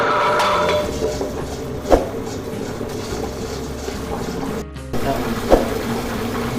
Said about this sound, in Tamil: இப்போ கிரைண்டரில் அரிசியை போட்டு நல்லா நைஸாக அரைச்சிக்கலாம்.